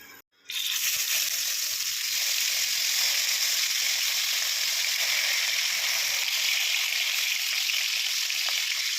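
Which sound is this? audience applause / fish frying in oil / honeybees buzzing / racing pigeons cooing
fish frying in oil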